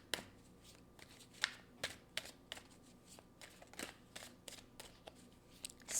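Tarot cards are drawn and handled in a quiet room: a series of crisp, close card snaps and slides, roughly a dozen sharp flicks spaced irregularly over several seconds, with soft rustling between them.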